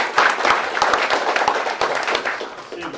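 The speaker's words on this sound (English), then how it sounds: "So a round of applause for Bob Taylor." A short burst of audience applause at a university kickoff meeting, with distinct individual claps standing out in a loose, uneven rhythm from a modest crowd, close and fairly loud for about three seconds.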